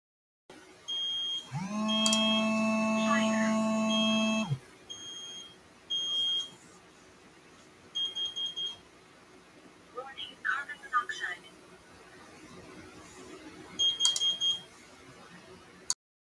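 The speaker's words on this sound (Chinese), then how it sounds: "我哋而家试下播一啲烟雾警报器嘅警钟声音" A smoke alarm sound plays from a device for a phone sound-recognition app: a loud harmonic alarm tone for a few seconds, then short intermittent beeps with quieter background noises between them.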